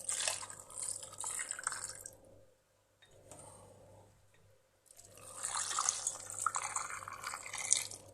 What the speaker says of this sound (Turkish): Tekrar üzerine su ilave edeceğiz.